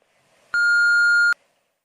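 A single clean electronic tone marks the end of a voicemail recording, loud and steady for just under a second, then stops into quiet.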